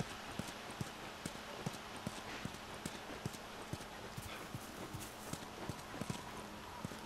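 Horse hooves clip-clop in a steady walking rhythm in The Last of Us, close and fairly loud, with sharp regular hoofbeats running throughout over a faint ambient bed.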